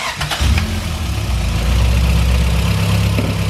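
A car engine cranks briefly and catches, then settles into a steady, loud idle with a low rumbling throb close by, no voices.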